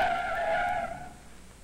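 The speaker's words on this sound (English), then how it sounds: "The police car had good brakes, and it took 30 feet to stop." A police car brakes hard to a stop with a loud tire squeal that holds steady, then fades over about a second and a half. No voices.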